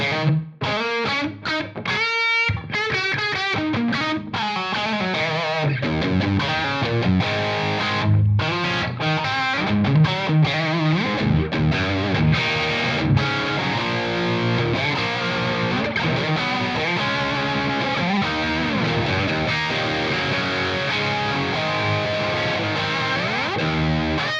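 A distorted electric guitar, through a modeler with small room reverb of 0.65-second reverb time, plays a busy riff with chords and single notes, carrying a short, roomy reverb tail; no voices.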